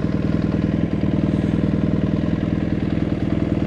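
A motorcycle rides across the open, hot steppe beyond Karaganda, its engine a steady, close, unbroken drone with a throbbing low rhythm, and no voices.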